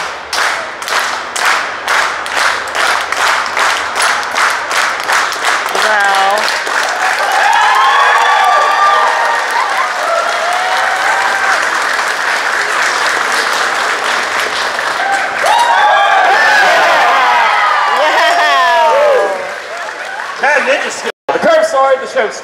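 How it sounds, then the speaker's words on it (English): An audience claps along in a rhythmic, evenly spaced beat, loud and close, then breaks into looser applause with some chuckling and talk in a room. "let's go ahead and start off with the rhythmic clap"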